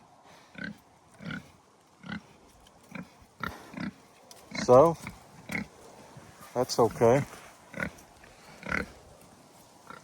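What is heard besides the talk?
pigs grunting in farm pen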